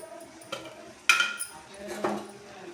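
Chicken with garam masala and salt is stirred in a metal pan, giving soft scraping and a few distinct clinks of spoon on metal, close by, under a faint background voice.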